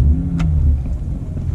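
A BMW 1M with an N54 engine and full Borla exhaust, sitting in neutral after the start button is pressed, gives a deep, loud, close rumble with a brief crank burst early on, then a settling idle.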